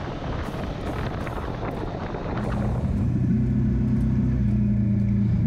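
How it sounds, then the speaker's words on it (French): A motorcycle tuned for low-to-mid revs accelerates hard out of a bend. Loud wind rush gives way to a close, steady engine drone that holds strongly to the end. "on sort de virage, on réaccélère et la moto repart tout de suite"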